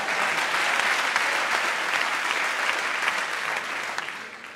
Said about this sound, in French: On applaudit Bertrand, on applaudit Bertrand.